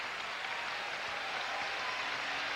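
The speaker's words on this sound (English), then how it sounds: "giving a nice round of applause" Crowd applause in a gym during a 1988 girls' high school basketball game, Calais versus Central Aroostook, a dense, even roar of clapping from the stands sustained throughout at moderate distance.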